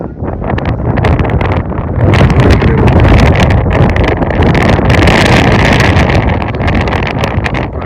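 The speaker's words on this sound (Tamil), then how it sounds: "கடுமையான காற்று" Strong, steady wind roars and buffets the microphone throughout at an outdoor cricket tournament match, a loud continuous rushing with gusty surges.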